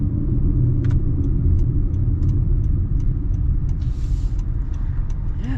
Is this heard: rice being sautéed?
no